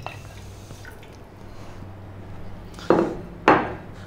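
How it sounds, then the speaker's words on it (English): Drained masala dropped into a wiped-out pan for a king fish curry, landing in two quick wet thuds close by after a quiet stretch, with no voices. "We're going to drop the masala in."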